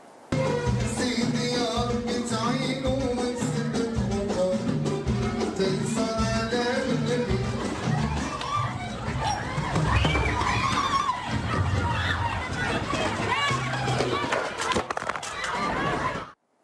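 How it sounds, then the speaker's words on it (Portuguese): Frightened wedding guests at a party in Morocco scatter during the earthquake, a dense crowd of screams, shouts and running feet that swells into chaotic, loud commotion throughout, with music-like tones early on. "A gente vê aí a correria, a gritaria, o medo."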